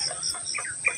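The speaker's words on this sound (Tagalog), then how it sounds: "Ayan yung manok po." A chicken clucking in a backyard garden, a few short soft clucks and chirps at close range, brief and fairly faint over quiet outdoor background.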